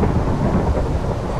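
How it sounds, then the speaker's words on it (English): Steady rumbling thunder with a wash of rain in Minecraft during a hardcore survival game, a continuous low roll filling the short stretch with no talk. "And lightning and thunder."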